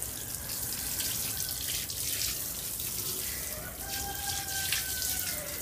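Rainwater drips and trickles into a can on a shelf inside a watertight greenhouse. A steady, close splashing wash continues throughout, with no voices.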